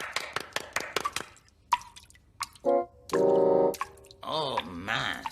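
Cartoon tap after a botched plumbing repair, giving a run of sharp, evenly spaced drips that build into plops and gurgles, followed by tonal squeaky water and sloshing effects; close and fairly loud.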